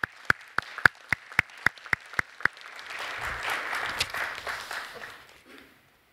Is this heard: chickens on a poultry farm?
no